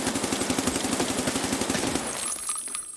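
Rapid automatic gunfire with BP ammo in the game Escape from Tarkov, a loud close burst of evenly spaced shots lasting about two seconds before cutting off into a fading ring.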